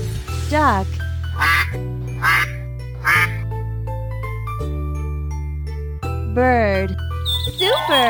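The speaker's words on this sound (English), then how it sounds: "Duck" A cartoon duck quacks several times in quick bursts over a steady, bouncy tune with light jingles, from a children's game about animals and dinosaurs.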